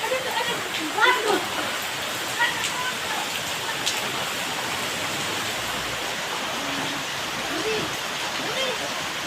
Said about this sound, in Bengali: যে বাতাস আসছে ঝড়ের মতো,